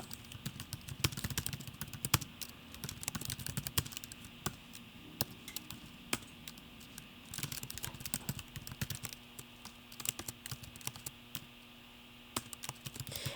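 Typing on a computer keyboard, a close, quiet run of irregular key clicks in bursts with short pauses, alone without talk.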